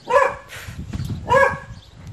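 An aggressive dog barks in a house, two loud close barks with a growling, whining tail between them, standing out sharply against a quiet room.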